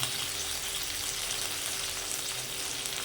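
Chopped potato pieces fry in a pan for sabudana khichdi, making a loud, continuous, close sizzle with no talking.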